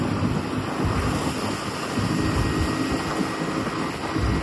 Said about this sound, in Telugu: గాలి ఘోరంగా వస్తుంది